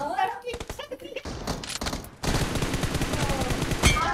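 Gunfire in the mobile game PUBG Mobile, quick bursts of rapid shots followed by a dense stretch of noisy firing, with a player talking over the action.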